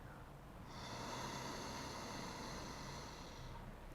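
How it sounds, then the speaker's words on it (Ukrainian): A slow, calm inhale during a guided meditation, a steady breathy hiss that swells in and holds for about three seconds before fading, close and soft with no talking over it. "Робимо спокійний, спокійний вдих."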